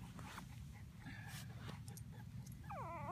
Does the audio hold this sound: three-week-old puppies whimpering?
yes